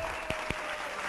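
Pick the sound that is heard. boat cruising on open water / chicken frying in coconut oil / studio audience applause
studio audience applause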